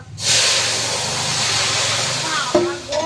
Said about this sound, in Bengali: তেল হয়ে গিয়েছে এবার তরকারি ঢেলে দিচ্ছি